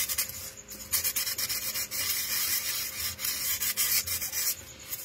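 Close, scratchy rubbing as a cut in a wood carving is sanded by hand, with repeated short back-and-forth strokes of varying intensity and brief pauses between bursts.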